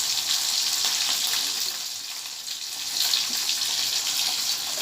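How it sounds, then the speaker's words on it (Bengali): Fish fries in mustard oil in a pan, giving a continuous bright sizzle that holds steady with small swells, heard alone without talk. "এই মাছ ভাজা হচ্ছে"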